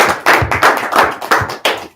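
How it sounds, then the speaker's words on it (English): A small audience gives a round of applause at a business meeting: a few loud, uneven claps, close and distinct rather than a dense wash. "Let's give them all a round of applause."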